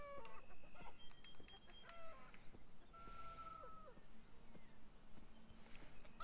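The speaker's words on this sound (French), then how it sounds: "Je voudrais donner à manger aux poules." Chickens cluck faintly in the video game Beyond Eyes, a few soft, scattered calls set among quiet tonal game sounds in a calm, low-level ambience.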